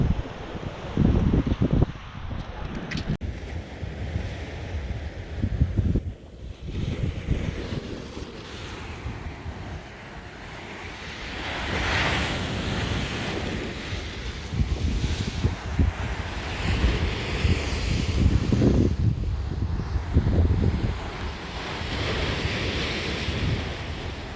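Waves break and wash continuously on the beach at Cales de Mallorca. Gusty wind hits the microphone and rumbles over the surf. The waves swell and fade in irregular surges, and no one speaks.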